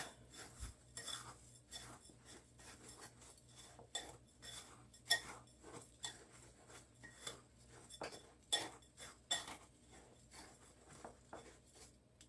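Onion ring batter is mixed in a bowl with a utensil, making quiet irregular clinks, scrapes and knocks against the bowl, close and faint, with no talking.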